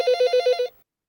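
A telephone bell rings in five quick, evenly spaced bursts, loud and close, then stops abruptly and leaves silence.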